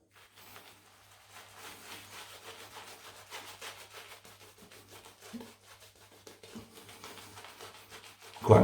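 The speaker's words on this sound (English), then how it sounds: "So, let's start to lather." A shaving brush works up lather on a Wilkinson Sword shaving soap: a soft, steady rubbing and swishing that carries on quietly throughout, with a louder knock or bump right at the end.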